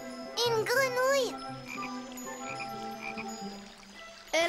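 A cartoon frog makes a warbling, croaking call next to a tinkling, chiming music score, with an animated character's voice at the start and end.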